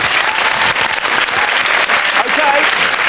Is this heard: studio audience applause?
yes